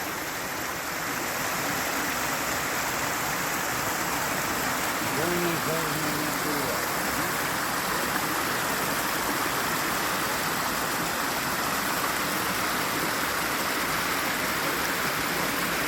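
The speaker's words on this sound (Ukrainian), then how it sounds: "Такий водоспадик." A small waterfall of snowmelt water flows in a continuous steady rush, close and fairly loud throughout with no break; a voice speaks faintly beneath it.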